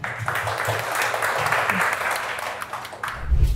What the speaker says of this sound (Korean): 따뜻한 박수로 맞이해 주시기 바랍니다